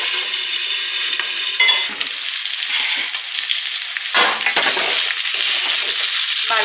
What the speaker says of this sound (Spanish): me encanta cuando está la carne así tan fritita